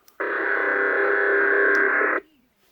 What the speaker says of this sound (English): this is a different standard of DMR, so it sounds like this